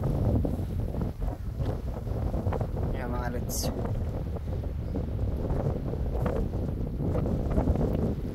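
A strong wind roars steadily across the microphone on a cycling route on Al Baha Road, with someone speaking briefly over the gusty rumble.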